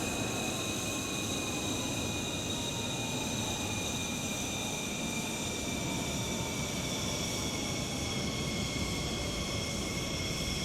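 An F-14D Super Tomcat taxis in Microsoft Flight Simulator 2020 with a steady, unbroken jet engine roar and high turbine whine at constant loudness, and nothing else heard.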